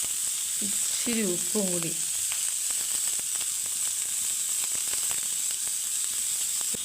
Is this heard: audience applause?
no